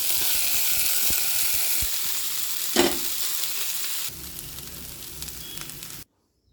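Cooked country long beans dropped into a hot frying pan for a Kerala thoran, a loud steady sizzle with a few stirring clatters, easing to a quieter fry before cutting off.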